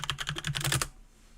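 Rapid clattering keystrokes on a computer keyboard, a short loud burst of closely spaced taps that stops abruptly into quiet.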